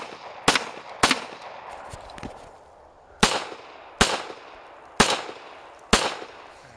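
Gunshots fired during a run-and-gun shooting drill: six sharp, loud cracks at irregular intervals, each with a short echoing decay, heard outdoors with no talking.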